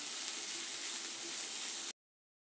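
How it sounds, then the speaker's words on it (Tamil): Whole spices with cloves frying in a pan for onion masala give a steady, even sizzling hiss for about two seconds before cutting off abruptly; no voices. "எல்லாத்தையும் சேர்த்து நல்லா வதக்கிக்கலாம்"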